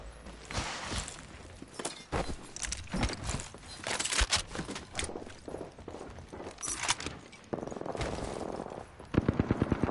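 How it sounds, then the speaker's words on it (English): Gunfire in PUBG: bursts of shots and automatic fire mixed with footsteps and clatter, ending in a rapid regular volley, moderately loud with no talking. "I'm taking fire"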